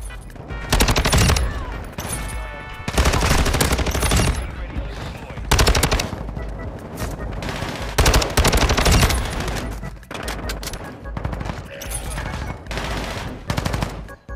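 STB 556 rifle fire in the Call of Duty MW2 video game, with loud sustained automatic bursts that come in several long strings with brief pauses between them, close and dominant.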